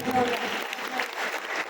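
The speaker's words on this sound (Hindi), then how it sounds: "तहे दिल से जोरदार तालियां हो जाएं" Applause from an audience at a speech event honouring a village resident, steady dense clapping at moderate level with a voice briefly over it at the start.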